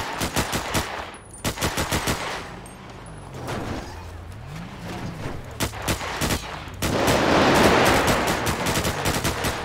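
Video game gunfire in repeated rapid bursts of sharp, loud shots separated by short pauses, with a mechanical whirring between bursts and a dense roar of noise toward the end.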